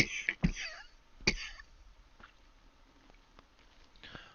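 Someone coughs and clears their throat a few times in quick succession near the start, one more sharp cough following a moment later, then a quiet room with faint background noise.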